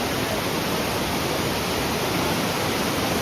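Water pours down a waterfall at Nilambur in Kerala, flowing low in the dry season, as a steady, dense, broadband rush that holds even throughout with no voices.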